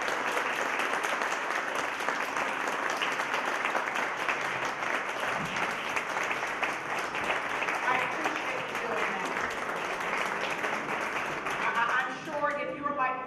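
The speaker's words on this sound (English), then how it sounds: "let's give them a round of applause" Sustained loud applause from an audience at a community health forum greets the panelists, dense even clapping lasting over ten seconds before it thins out and a voice begins speaking at the end.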